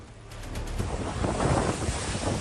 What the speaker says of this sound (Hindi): द्वारिका के तहत आने वाले ओखा टाउन में समंदर के किनारे की कोस्टल लाइन के पास लहरों की इस बेचैन कर देने वाली हलचल को देखिए।